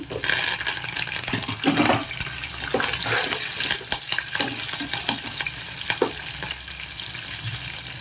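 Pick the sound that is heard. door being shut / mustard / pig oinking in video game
mustard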